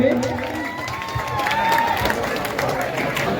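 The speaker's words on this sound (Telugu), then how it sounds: "గట్టిగా ఒకసారి క్లాప్స్ కొట్టండి" A crowd at a village Sankranthi celebration in KL Puram, Garividi mandal, claps and cheers in a loud, dense wash while an announcer's amplified voice carries over it.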